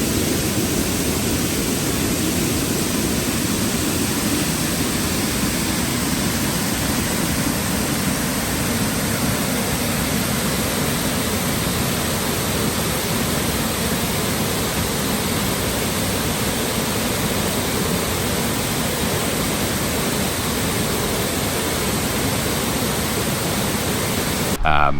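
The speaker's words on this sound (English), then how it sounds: "with the rain dumping, the waterfall was raging" Broad, steady roar of a waterfall swollen and raging after heavy rain, a constant loud rush of pounding water that never lets up, heard close and alone.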